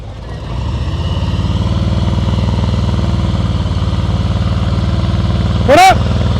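A motorcycle engine runs at a steady low idle-like rumble during slow-speed riding practice in Florida, close and continuous, with a brief squeaky chirp near the end.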